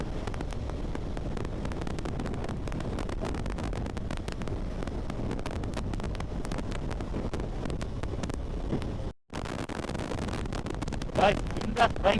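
Strong wind roars and buffets continuously while riding a KTM Duke 390 naked motorcycle on a highway between Chennai and Trichy. The loud, dense rush drops out briefly once near the end, then resumes.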